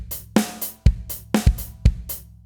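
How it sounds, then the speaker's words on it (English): Drum kit groove variation with an extra kick drum: crisp snare hits and cymbals alternate with punchy low kick thumps, including a doubled kick, in a tight, close, steady rhythm. "Little extra kick drum."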